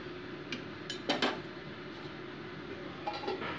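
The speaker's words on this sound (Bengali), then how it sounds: "এবার আমি লিড চাপা দিয়ে মোটামুটি 2 মিনিটস ওয়েট করছি" A lid clinks onto a pan of fish curry with a couple of brief metallic knocks and a light rattle, faint over a quiet kitchen background.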